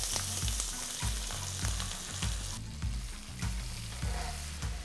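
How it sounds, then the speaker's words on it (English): Thinly sliced ivy gourd frying in a pan, a steady bright sizzle with repeated scraping stirs of a spatula at close range and no voices. "you need to fry the vegetable till it's a nice golden brown color"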